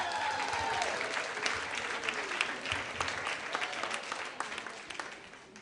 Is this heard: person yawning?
no